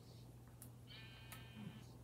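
A sheep bleats once on a sheep and cow farm, a faint, drawn-out call over a steady low hum with light background noise and no talking.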